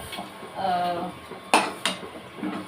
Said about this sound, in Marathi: कढई पण घासून घ्यायची